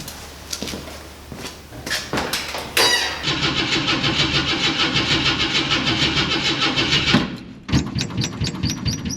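An old car with a carburetor that struggles when cold is cranked by the starter in several short bursts, then catches and runs with a loud rhythmic idle that stumbles, dies briefly and restarts close by.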